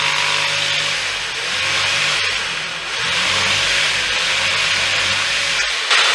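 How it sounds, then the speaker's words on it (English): A steady, loud power saw cuts off a section of wood while a guitar neck is being made, running continuously for several seconds with slight dips and a sharp knock near the end. "Let's cut that off real quick."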